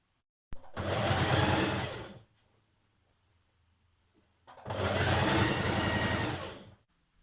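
A sewing machine hems the sleeves and bottom of a dress in two distinct bursts of close, buzzing stitching, separated by a couple of seconds of near silence.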